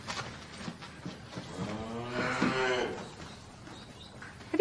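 A dairy cow on an Australian cattle ranch lets out a long, loud, close moo that rises and holds for about a second before fading, with quieter farmyard sounds before and after.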